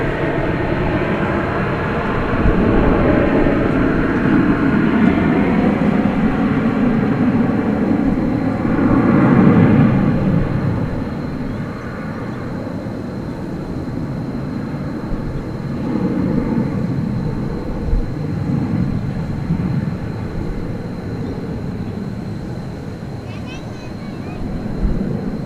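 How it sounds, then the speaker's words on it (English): An American Airlines Airbus A321 departs at night for Sacramento, its engine roar strong at first and then gradually fading as it climbs away, with a commentator speaking over it. "American Flight 2097 is going to Sacramento, California. It's an Airbus A321. Now rocketing out of the picture."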